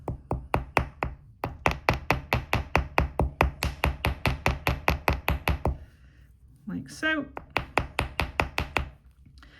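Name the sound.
hammering wire loops on a block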